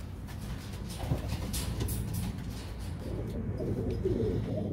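Young pigeons coo softly and continuously in a loft, a low murmuring flock sound with faint rustling.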